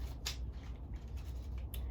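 Tarot cards being shuffled close up, soft papery riffles with two brief crisp flicks, quiet and steady with no voice over them.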